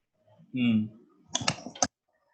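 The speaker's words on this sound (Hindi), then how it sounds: "बटन घुस गई थी कीबोर्ड में" A computer keyboard with a stuck key gives a short burst of sharp clicking keystrokes, close and clear, just after a brief voice is heard.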